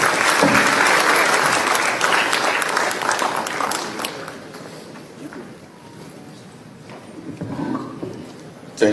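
Loud crowd applause fills a hall at the launch of three government initiatives, steady and dense at first, then thinning and fading toward the end with a brief swell.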